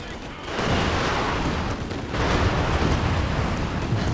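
Booming artillery shells from a Company of Heroes 2 match land in a dense, rumbling barrage, loud and continuous with overlapping blasts swelling after a brief lull.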